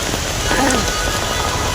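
Heavy rain mixed with hail pours down in Bangalore during a fierce storm, a loud, dense, continuous roar of water hitting surfaces with no break.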